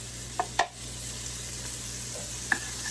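Chopped onions sizzling steadily in a hot pan for pasta fagioli, a soft continuous frying hiss with a few sharp utensil clicks and stirring taps.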